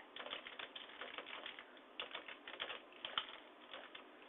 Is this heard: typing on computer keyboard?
yes